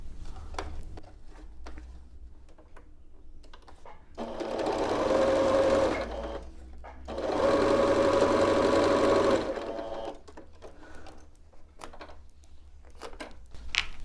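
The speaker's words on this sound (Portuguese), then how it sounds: "Então, agora é só completar essa costura." A sewing machine stitches a patchwork pillowcase seam in two steady whirring runs of a few seconds each, separated by a short pause, with quiet handling sounds before and after.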